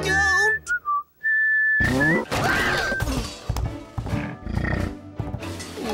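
A cartoon character whistles a cowboy tune: a few bright, sliding whistled notes, loud and close, then a noisy clash of animal-like roaring and neighing cries.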